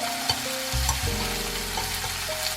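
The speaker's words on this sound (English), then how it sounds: "Put the ginger and scallion into the pan. Stir fry a little bit." Ginger and scallion stir-frying in cooking oil in a pan at home, a steady close sizzle with hiss and light crackle, stirring shifting the tone now and then, no talk.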